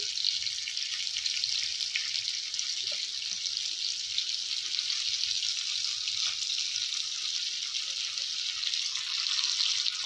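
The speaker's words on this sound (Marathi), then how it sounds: "आता आपण एका साईडनी दोन एक ते दोन मिनटं शेकून घेणार आहोत" Bangda mackerel coated in semolina and masala fries in hot oil, giving a steady, close hiss and sizzle with scattered faint pops and crackles, constant in level throughout and without any talking.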